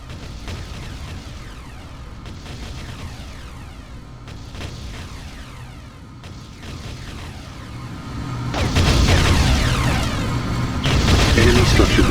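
Enemy structures blow up in the real-time strategy game Ground Control, giving deep rumbling booms that swell into a loud, sustained explosive roar in the second half over a busy battlefield bed with mechanical clatter.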